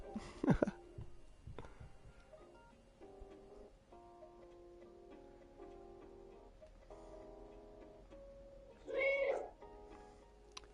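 A cat meows in the video game Stray, a short rising call near the end following a brief sharp cry at the start, over a steady soft game soundscape with ticking.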